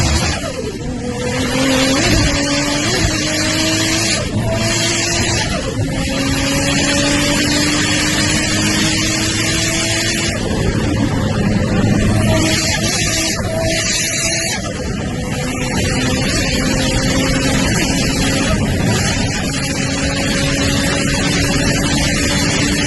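Car drifting with its engine revving hard, loud rising and falling engine tones with tire noise running continuously and close, no talk.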